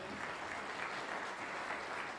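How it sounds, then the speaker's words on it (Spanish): Audience applauding a church choir, Nueva Alegría, at a Bible seminar: a steady, dense wash of clapping that holds evenly through the whole moment without pause. "Vamos a continuar aplaudiendo al coro Nueva Alegría"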